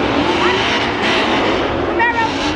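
A Chevrolet Camaro racing a Jeep Trackhawk, with a dense, steady engine roar and road noise throughout, while people talk excitedly over it.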